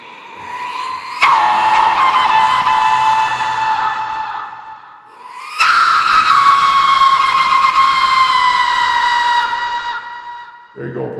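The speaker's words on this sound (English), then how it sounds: "That's the death whistle." A death whistle blown with reverb gives two long, loud shrieking wails, each starting sharply and slowly fading with a lingering echo tail.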